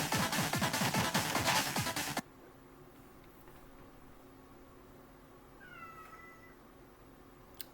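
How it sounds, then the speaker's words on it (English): A pet kitten meows loudly in rapid, repeated cries for about two seconds, then stops, leaving a quiet room with faint background hum and a brief distant chirp. "And my kitten is crying because he's in the back room."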